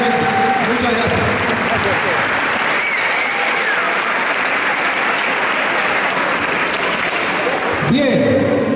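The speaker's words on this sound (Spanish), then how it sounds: "les regalamos un aplauso porque nos ayuda mucho a difundir nuestras actividades diariamente" Loud, sustained clapping from an audience at a school sports program's closing ceremony, an even roar of many hands filling the whole stretch, with faint voices and brief tonal sounds mixed in near the start and end.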